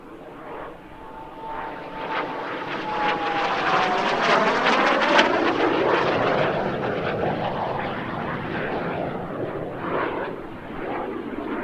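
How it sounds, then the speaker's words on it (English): Aero L-29 Delfin jet trainer flying past at a vintage warbird airshow, a loud turbine roar swelling and fading with a falling whine as it passes overhead. "It's the only purely jet-powered aeroplane capable of performing a stall turn."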